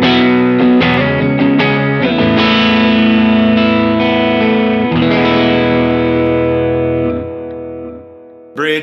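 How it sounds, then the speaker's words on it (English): A Porter Khrosis electric guitar on its middle pickup rings out with sustained chords and notes, soaked in delay and reverb with some grit, played alone for several seconds before fading at the end. "You want to hear middle pickup position?"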